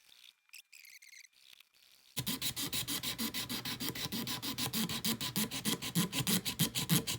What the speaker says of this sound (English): I have some blades here, and I'm going to start scraping